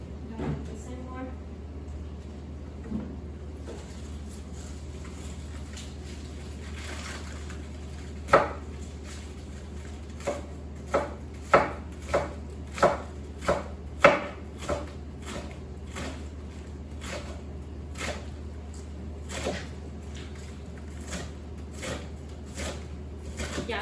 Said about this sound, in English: I'm just gonna slice this fine